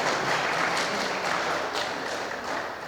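Audience clapping at the AVM Convention Centre inauguration at AVM Studios, Vadapalani: dense, steady applause from a large crowd, moderately loud and continuous, fading a little at the end.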